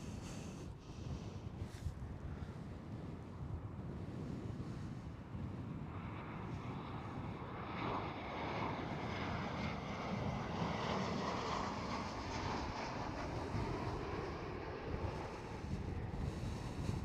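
A passing airliner at Schiphol Airport, Amsterdam, gives a steady, broad jet roar that swells gradually and stays loud throughout, with some wind noise on the microphone and no talking.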